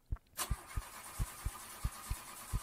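A car engine in The Stalked, sabotaged with sugar in the gas tank, fails to start: an ignition click, then a rapid, evenly spaced series of faint cranking pulses that never catch, close by and quiet.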